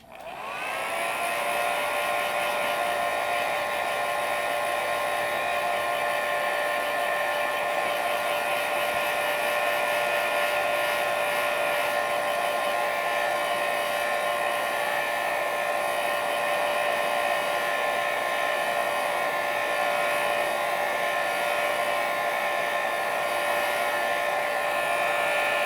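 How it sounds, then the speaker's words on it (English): A blow dryer runs steadily and loudly, drying fluid acrylic paint, a constant high whine with a faint tonal hum held unbroken from start to finish, with no voices. "I'm gonna hit this with the blow dryer"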